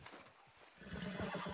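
An agitated horse in the video game Red Dead Redemption 2 snorts and stamps, then lets out a loud, rising whinny mixed with clopping hooves, close by and without talk.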